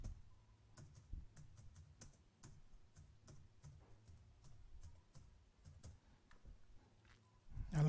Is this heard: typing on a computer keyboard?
yes